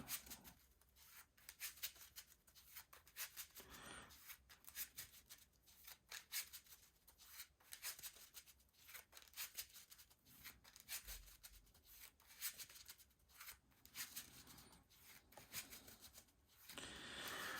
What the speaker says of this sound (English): Shuffle this up.